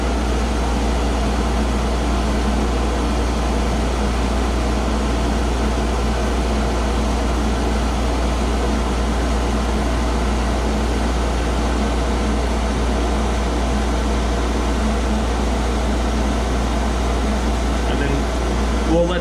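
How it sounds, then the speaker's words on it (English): A 12V 12,000 BTU marine air conditioner runs its compressor and fan at full speed, giving a steady, even hum with broadband airflow hiss that holds constant throughout. "This is once again full compressor speed."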